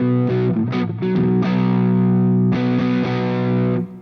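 An electric guitar playing a rhythm part with light distortion and a slight bite, loud sustained chords with short choppy breaks, heard alone.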